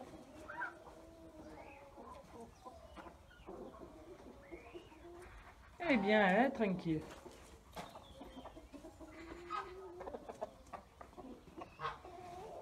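Hens cluck and murmur in a backyard chicken coop with soft calls scattered throughout and one louder squawking outburst midway. A person talks quietly nearby.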